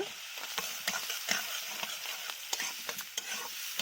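Chopped carrots and beans frying in a pan, a soft steady sizzle with frequent quick scraping stirs, close and fairly quiet, no talking.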